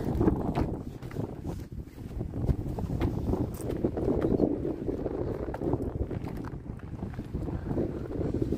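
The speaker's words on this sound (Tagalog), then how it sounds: "Grabing hangin." Strong wind at a seaside fishing spot at Hänö Klåva, Sweden, buffets the microphone in a continuous low roaring rumble with gusty thumps, steady from start to finish.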